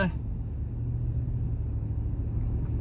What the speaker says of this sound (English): I'm filming this at a time when there's a little bit too much traffic.